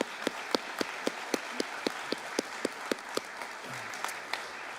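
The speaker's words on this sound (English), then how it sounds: "and give them a round of applause." A high school honors night audience claps for blood donors, each clap sharp and distinct in a slow, regular sequence at moderate distance, with no talking.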